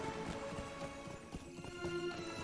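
Horse hooves clip-clop in a quick, steady rhythm over layered game music and ambient tones in The Lord of the Rings Online.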